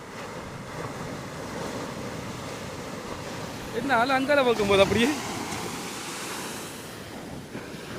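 Sea waves washing on the shore at Pandiruppu, Batticaloa, a steady soft surf wash throughout, with someone speaking briefly over it.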